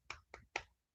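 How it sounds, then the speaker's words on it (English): Three sharp hand claps in quick succession, close and fairly loud, with no talking. "I'm clapping like a walrus."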